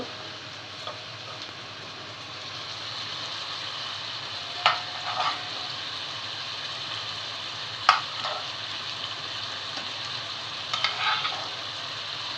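Fish frying in a pan alongside sautéed cauliflower and potato, giving a steady low sizzle with a few sharp scrapes and stirring clatters, heard close up with no talking.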